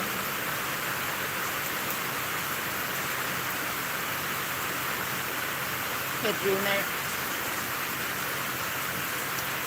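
Steady rain pours down as a dense, even hiss through the whole stretch, with a voice speaking briefly under it near the end.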